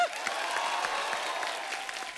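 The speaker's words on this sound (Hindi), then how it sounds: "पहले तो इसके लिए तालियां हो जाएं।" A studio audience on The Kapil Sharma Show applauds the upcoming film RRR with brisk, continuous clapping and a light murmur of crowd noise, steady and moderately loud throughout.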